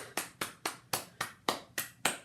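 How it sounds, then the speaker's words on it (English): Hands clap in a steady, even beat, about nine sharp claps spaced roughly a quarter-second apart, fairly close and with no talking over them. "let's all give ourselves a round of applause"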